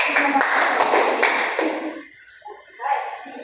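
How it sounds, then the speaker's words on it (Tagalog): A quick run of sharp claps sounds in rhythm, several hands together, then fades into quiet with a faint tap or two afterward. "Bigyan nga ninyo ng 3 palakpak."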